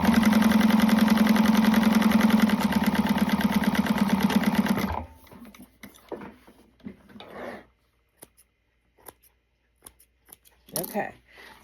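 A sewing machine runs steadily and loudly top stitching a fabric wristlet for about five seconds, then stops, leaving quiet handling clicks and faint rustles.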